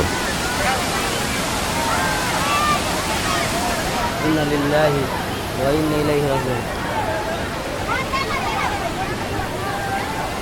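The Jaflong waterfall in Sylhet, Bangladesh, roars as a constant rushing wash of water while a crowd of people talk and call out nearby over it.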